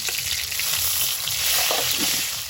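Panch phoron spices and garlic sizzle loudly in hot oil in a kadai, a dense, even crackle close by with faint stirring scrapes, no talk.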